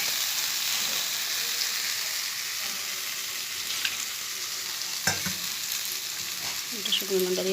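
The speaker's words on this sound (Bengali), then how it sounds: "এবার মশলাটা কষিয়ে নেব।" Spice masala for a paneer curry sizzles and fries in a pan, a steady broadband crackle running throughout with a few stirring knocks and scrapes near the end, no voices.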